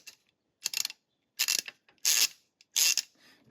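Husky ratchet wrench from a budget toolkit, spun to show its back drag: five short bursts of dense ratchet clicking separated by brief pauses, close and fairly crisp.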